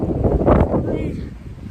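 Gusting wind buffets the microphone in a loud, rumbling rush that swells and fades, with a voice speaking through it.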